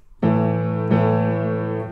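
A piano plays two sustained notes, the second struck about two-thirds of a second after the first, both ringing loud and close and fading slowly.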